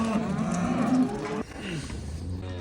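Cattle on a farm, one loud, close, drawn-out moo that stops abruptly, followed by quieter lowing from other cows in the background.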